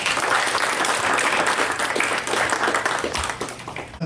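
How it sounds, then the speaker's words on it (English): Audience applause at an engineering organisation's event: a dense, sustained burst of many hands clapping that fills the room and fades slightly toward the end. "please give him a big round of applause"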